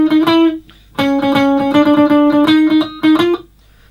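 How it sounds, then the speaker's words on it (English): A slightly overdriven electric guitar plays a bass riff: a rhythmic, loud run of picked low notes that pauses briefly before the phrase repeats. "a guitar doubling the bass riff that sounds like this."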